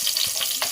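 Whole spices frying in hot oil for a village chicken curry, a loud, close crackling sizzle with bright hissing spits throughout the brief moment.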